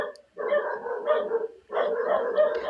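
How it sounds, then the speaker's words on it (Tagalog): Several dogs bark in two long bursts, a dense cluster of yaps and woofs separated by a brief pause, moderately close and loud with no talk over them. "Yan, dami tuloy aso."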